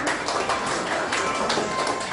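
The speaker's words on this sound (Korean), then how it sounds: "박수 쳐달라고 하시니까 박수로 환영하겠습니다." A church congregation claps together in welcome during a Korean worship service, a dense, steady patter of many hands filling the room at moderate level without a break.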